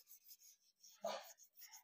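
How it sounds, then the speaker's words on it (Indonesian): Sandpaper is rubbed over an engine part from an overheated engine, making faint, short rasping strokes in a steady back-and-forth rhythm, close by and alone. "dihalusin aja pakai amplas gini"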